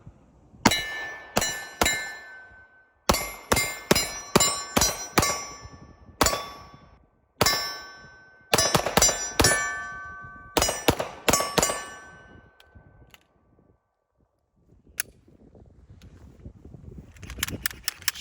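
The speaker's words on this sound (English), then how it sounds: "So let's take a couple shots." CZ pistol fired at 7 yards in quick bursts of sharp, ringing shots, several clusters of rapid reports with metallic ring-off between them, loud and close, ending with a few scattered clicks.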